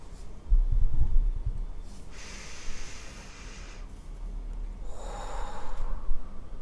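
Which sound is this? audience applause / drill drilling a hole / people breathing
people breathing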